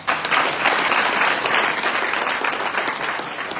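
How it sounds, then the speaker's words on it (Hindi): An audience at a youth spiritual talk in Surat breaks into loud, dense applause, a continuous burst of clapping that holds strong throughout. "जोरदार ताली मारो"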